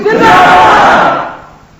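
Large crowd at a religious gathering shouting a unison slogan response in reply to a speaker's call, a loud, swelling roar of many voices that fades over about two seconds.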